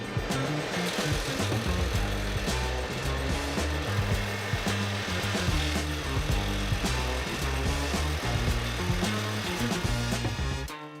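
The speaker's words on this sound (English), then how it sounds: "I made a rough cut and then sanded the wood down to match where I marked it off." A wooden insert for an epoxy resin ring is cut roughly and then sanded down, giving a loud, continuous rasping, rhythmic scraping with steady strokes and no pauses.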